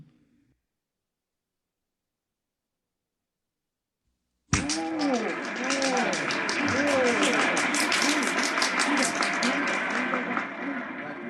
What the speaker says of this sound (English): this is a happy, laughing crowd along Fifth Avenue today